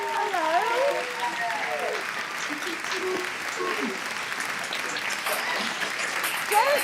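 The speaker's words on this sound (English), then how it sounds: "give yourselves and each other a big wave of the flags and a big round of applause" An audience at the Echo Awards 2020 ceremony applauds in a steady, moderately distant round of clapping, with a voice and cheers mixed in early on.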